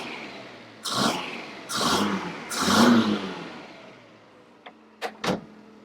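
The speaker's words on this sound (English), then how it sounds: "I'll just give it a quick blip as well so you can see how responsive it is" Quick throttle blips from a 1971 Datsun 510 running twin SU carbs, three short revving bursts close by, followed by a few sharper mechanical clicks and pops near the end.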